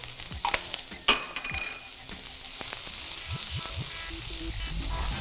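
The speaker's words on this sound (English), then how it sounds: "nice hot pan. And then I start off here with a little bit of celery, a little bit of onions." Celery and onions hitting hot olive oil in a pan, a few sharp clatters and scrapes followed by a sizzle that swells into a steady hiss, close up with no voices.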